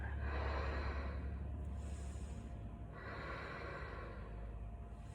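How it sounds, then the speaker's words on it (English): A person breathes during a yoga session, slow and audible: a long breath, then a second drawn-out inhale and exhale, close and steady, with no talking. "take a breath here"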